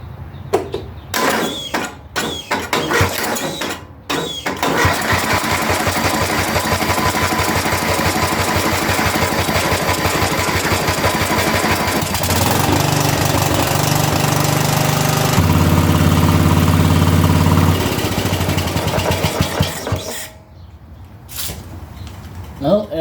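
A small MTD Yard Machines garden tractor engine set on choke cranks, catches and settles into a loud steady run with mechanical clatter, pitch shifting as it continues close by for most of the span before cutting off near the end.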